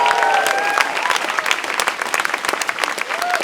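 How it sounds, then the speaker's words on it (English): A crowd applauds at a nature restoration event, loud and sustained clapping from many people with a few whoops and vocal calls rising above it throughout. "Big thanks to Clarissa for such a smooth run, organised event. It's incredible. Round of applause."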